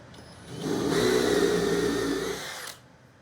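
A power drill bores a dog hole into a wooden workbench, with a steady motor whine that ramps up, holds for about two seconds, and then cuts off.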